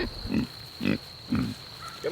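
Four pigs grunting while being moved to an upper pasture on a farm, with four or five low, close grunts spaced about half a second apart over a steady high hum.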